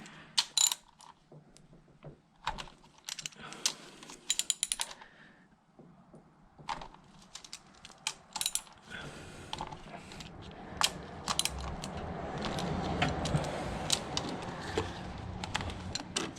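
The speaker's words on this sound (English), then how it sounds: "Next we're going to remove the 10mm washer bolt things here." Ratchet loosening 10mm washer bolts on a Honda S2000 valve cover: close, crisp clicking in short bursts with pauses between, then a denser stretch of rapid ratcheting and metallic rattling.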